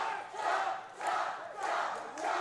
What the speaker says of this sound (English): The crowd calling for it